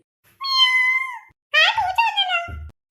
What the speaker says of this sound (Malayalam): കണ്ടോ പൂച്ച കട്ട് നിന്നിട്ട് പിന്നെ വന്നേക്കുവാ